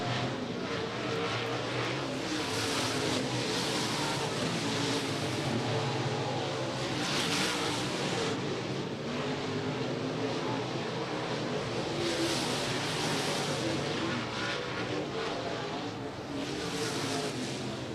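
A field of eighteen dirt late model race cars roars around the Tyler County Speedway dirt oval, a continuous loud engine drone that swells and fades as cars pass.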